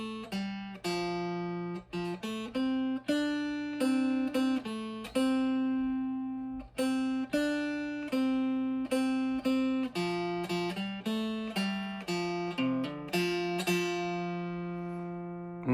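Guitar picking out the lead melody of a song, using open third strings, in a steady rhythm of clear plucked notes, each decaying quickly, played alone with no talking.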